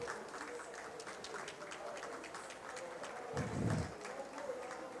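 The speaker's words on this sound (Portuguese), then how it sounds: "uma salva de palmas para as nossas pessoas convidadas aqui hoje" Scattered audience applause for invited guests at a panel on mining in indigenous territories, a steady patter of hand claps at moderate distance with a brief louder swell near the end.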